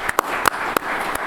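A few scattered hand claps ring out in a city council meeting in Baltimore, sparse and uneven over a quiet room hum.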